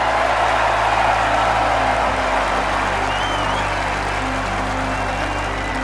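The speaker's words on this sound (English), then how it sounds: "Crowd's going wild out there." A virtual crowd at Quail Hollow in an EA Sports PGA golf game roars and applauds after an eagle putt, a dense sustained wash of cheering with no let-up.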